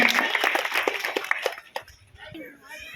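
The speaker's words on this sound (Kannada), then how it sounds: "ಚಪ್ಪಾಳೆ ತಟ್ಟುವುದರ ಮೂಲಕ ಸರ್ ಅವರನ್ನ ಸ್ವಾಗತಿಸಬೇಕಾಗಿ ಎಲ್ಲರಲ್ಲೂ ವಿನಂತಿಸಿಕೊಳ್ತಾ ಇದ್ದೇನೆ." An audience at a Sandur event honouring high-scoring SSLC students claps to welcome a guest, a dense burst of hand claps that fades out after about a second and a half, with speech heard alongside.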